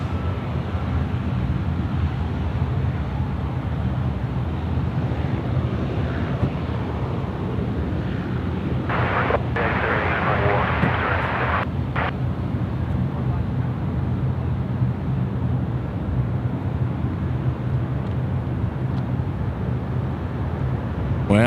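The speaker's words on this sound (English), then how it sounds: "Sri Lanka now departing runway 16 right." A SriLankan Airlines airliner takes off from runway 16 right at Sydney Airport, its engines a loud, steady broadband roar held throughout, with wind buffeting the microphone and a brief brighter burst partway through.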